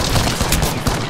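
Rapid gunfire in Apex Legends, a loud burst of several sharp shots in quick succession, close and alone.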